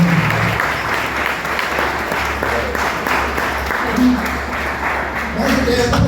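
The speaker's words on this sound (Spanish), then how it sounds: "Lo recibimos con un aplauso al Señor" Loud, sustained clapping fills a church as the congregation applauds, with faint voices and a few shouts mixed into the continuous patter throughout.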